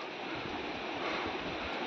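Sea waves at Harihareshwar beach wash in as a steady, moderately loud surf roar, broad and continuous with light wind buffeting the microphone and no voices.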